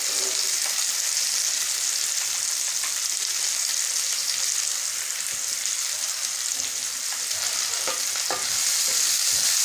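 Potatoes, okra and pumpkin frying in a pan, a constant bright sizzle with occasional scrapes and clicks of stirring, close and continuous.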